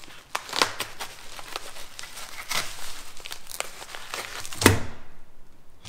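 A package being cut open, with steady crinkling and rustling of packing material and a few sharp snips and tears, one louder clunk near the end, close and moderately quiet with no talk.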